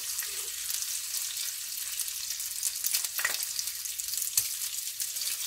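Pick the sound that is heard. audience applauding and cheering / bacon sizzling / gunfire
bacon sizzling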